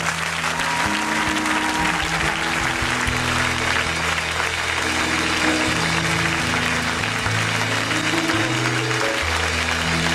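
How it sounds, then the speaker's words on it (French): A church congregation clapping and cheering in worship to acclaim the Lord's name, dense continuous applause with music and voices underneath, loud and steady throughout. "peux-tu encore acclamer le nom du Seigneur?"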